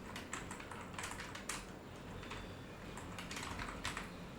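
Fast, steady typing on a computer keyboard, a dense patter of light clicks with occasional louder key presses, close and quiet with no voices.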